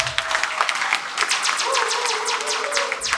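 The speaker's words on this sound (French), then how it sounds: "Applaudissez pour aussi" Gala audience applauding at a 30th anniversary celebration, steady moderately loud clapping through the clip, with some cheering and brief vocal tones mixed in.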